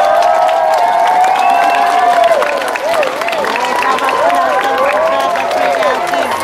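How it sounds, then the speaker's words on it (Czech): Crowd cheering and applauding at a children's school Olympics closing ceremony, with high excited voices shouting and whooping over loud clapping, close and continuous. "Takže velký potlesk pro paní rozhodčí a pro vaše paní učitelky."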